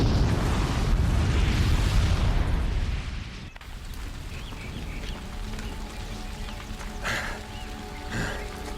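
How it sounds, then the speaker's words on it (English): A bomb explosion in the video game Horizon Zero Dawn, a loud roaring, rumbling blast that fills the first few seconds, then fades into a lower ongoing rumble with scattered faint sounds. "the booby trap on the bomb downstairs is gonna get set off"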